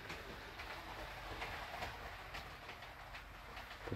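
A model military train locomotive rolls toward a station with faint, steady clickety-clack wheel sounds, quiet and continuous as it slows.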